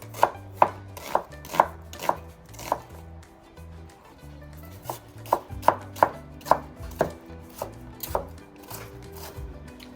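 Repeated pounding of Gambian plasas ingredients in a small mortar with a pestle, sharp rhythmic thuds in two bursts separated by a short pause, close and clear with no talk.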